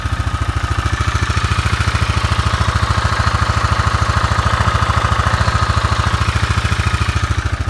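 A Kawasaki Bayou 400 ATV engine runs steadily close by, a loud, even, rapid thumping idle that holds its pace for the whole stretch with no voices.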